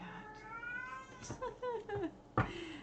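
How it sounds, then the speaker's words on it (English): A cat meows several times in drawn-out, wavering cries, fairly close, with a sharp louder yowl near the end. "cat."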